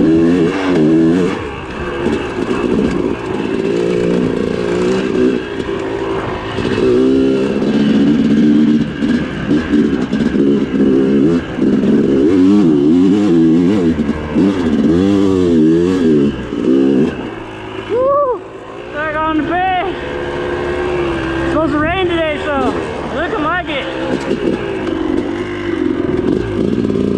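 A motorcycle with a suspected bad spark plug rides steadily nearby, its engine droning and changing pitch with a few quick revs partway through, all under wind and road noise.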